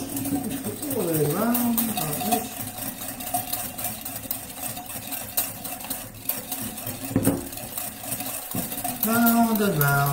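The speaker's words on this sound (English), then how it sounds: "there's your milk, goes in like that, and then just simply get whisked." Milk being whisked into Angel Delight dessert mix, a soft continuous stirring and clinking in a bowl under a steady background hum, with a person talking at the start and end.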